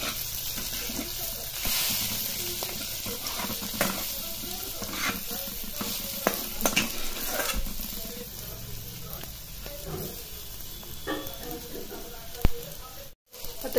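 Green chilies fry in hot oil, giving a continuous close sizzle with stirring scrapes throughout and occasional brief talk.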